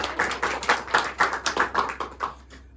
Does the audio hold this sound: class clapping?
yes